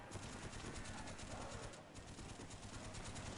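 A turret firing on zombies in the Call of Duty Zombies map Kino Der Toten: a constant, dense rattle of automatic gunfire mixed with game noise, steady throughout at fairly low level.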